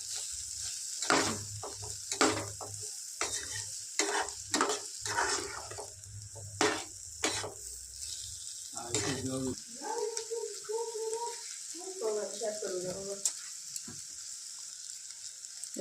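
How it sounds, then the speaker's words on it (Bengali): Boneless chicken pieces are stirred in a pan, with a low sizzle and a series of sharp scraping stirs early on, followed by some spoken talk. "এতে বোনলেস চিকেন দিয়ে দেবো 2 পিস। এর সাথে নাড়িয়ে নেব ভালো করে।"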